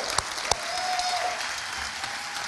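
Applause from a festival audience thanking sponsors at a closing keynote event, a steady wash of clapping with a couple of sharper claps standing out, fairly quiet and somewhat distant.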